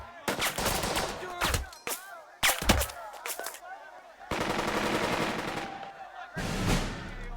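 Bursts of automatic gunfire and rifle shots crackle in the Burden of Command tactical war game, with dense volleys in quick clusters, a pause, then longer sustained firing near the end.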